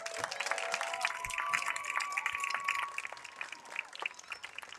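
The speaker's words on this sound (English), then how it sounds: "Ladies and gentlemen, another round of applause for all of our 2024 Hall of Fame class inductees" Crowd applause for Hall of Fame inductees at a high school football game, scattered clapping and cheering in an outdoor stadium, moderately distant, with a faint tone running beneath.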